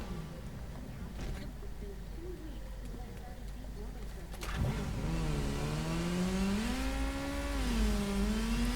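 Vehicle in the video game Gotham Knights, a steady engine hum that rises into a smooth revving, climbing drone midway and holds loud under continuous game ambience.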